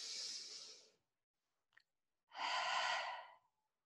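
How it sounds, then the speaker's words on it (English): Two long, breathy exhalations through an open mouth during a guided breathing exercise, each about a second, close and soft, separated by a brief quiet gap with a tiny faint sound. "We're going to inhale through our nose and exhale through our open mouth."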